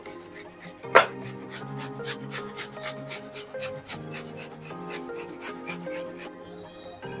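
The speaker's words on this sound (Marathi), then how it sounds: "आता आपण संपूर्ण मुळे किसून घेणार आहोत" Radish being grated by hand for Punjabi-style mooli paratha, a steady run of close, rhythmic rasping strokes against the grater with no voices.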